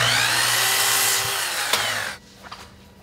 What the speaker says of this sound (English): I'll use some 1/4 sawn white oak and sneak up on the fit with the planer